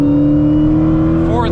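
Dodge Hellcat XR widebody rated at 888 hp pulls hard at full throttle in fourth gear, a loud steady engine roar with a strong low drone from inside the cabin and a brief rising whine near the end.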